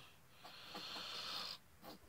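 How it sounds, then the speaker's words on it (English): A soft, close nasal sniffle, a drawn-out airy inhale followed by a shorter second sniff, quiet and alone. "Pardon my sniffles."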